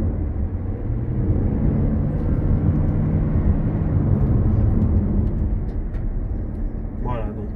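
A Lexus CT200h hybrid hatchback pulls away under acceleration, its steady low drone and road rumble filling the cabin, with muffled talk from the occupants running over it.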